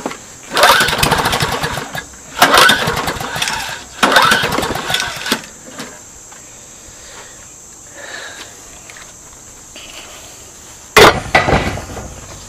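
Junk-picked lawn mower engine without gas being pulled over, loud repeated rasping pull-start bursts that sputter briefly, followed by a quieter pause and one last sharp sputtering kick, with insects chirping steadily in the background.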